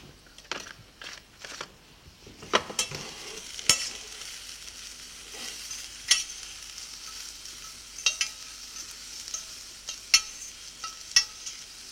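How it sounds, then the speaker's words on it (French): Julienned carrot fries in hot butter, a soft low sizzle running underneath sporadic sharp clicks and scrapes of a utensil in the pan, close and fairly quiet with no voices. "Je mets la carotte, Oui. voilà, dans un beurre chaud, mais pas trop brûlant."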